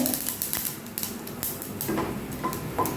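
Whole mustard seeds, a dried chili and a bay leaf fry in hot oil, giving a close, soft sizzle dotted with sharp popping crackles.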